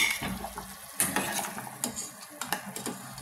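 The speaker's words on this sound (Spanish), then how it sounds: "Ahora voy a retirar las presas de pollo porque ya están cocinando 20 minutos." Chicken pieces lifted out of a simmering pot for Peruvian carapulcra, with metal utensils scraping and clinking against the pot in several sharp knocks over a soft bubbling background.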